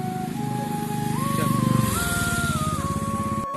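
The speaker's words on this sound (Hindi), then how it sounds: "और ये गई बाइक।" A motorcycle passes close by on a road toward Kathgodam railway station en route to Nainital, its engine a steady harmonic drone that rises in pitch and swells to a peak before easing away over a few seconds.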